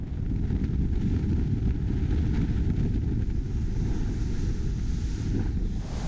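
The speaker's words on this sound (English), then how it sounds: "but it gets very windy." Strong wind buffets the microphone aboard an Azimut Grande 27 Metri yacht under way, a dense, steady roar mixed with rushing water and hull noise, loud and unbroken with no talking.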